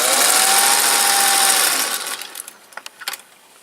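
A sewing machine stitching a folded seam runs loud and steady with a bright whirring hum, then stops and gives way to a few scattered clicks and fabric handling.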